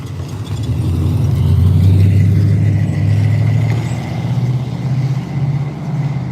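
A car passes close by with a loud, steady engine drone and a deep rumble that swells and then eases slightly, heard alone without speech.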